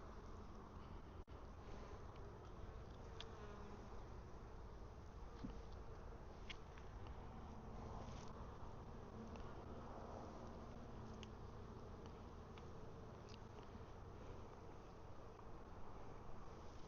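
Steady hum of honey bees buzzing around open hive frames during a brood and honey super check, a continuous dense drone with faint wind, close and even throughout with no voices.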